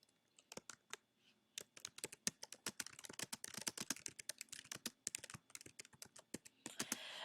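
Quick, irregular clacking of keys on a computer keyboard, fairly close, with short pauses between bursts of fast typing.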